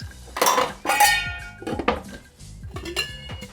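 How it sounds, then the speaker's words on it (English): Metal tongs handle ice while a Zombie cocktail is made, giving several sharp clinks and clatters of ice against metal and glass, close and bright, spaced irregularly with no talk. "If I can figure out how to use my tongs, because my tongs are very non-usable by me."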